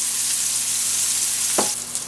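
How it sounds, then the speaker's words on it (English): Steady sizzling of mushrooms frying in a hot pan, a continuous crackling hiss with a brief clatter near the end. "give them plenty of room to do their frying here"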